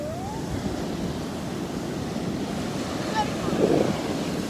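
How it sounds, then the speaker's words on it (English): Large ocean waves surging onto a beach at high tide, a steady loud roar of surf with wind noise buffeting the microphone and a slightly heavier swell near the end. "if we walk even remotely close, the wave gets us"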